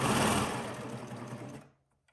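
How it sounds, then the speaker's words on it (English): A serger runs at speed, stitching fabric around in a circle with a dense, continuous whirring buzz up close, easing off and stopping near the end, no voices. "we are serging around in a circle here"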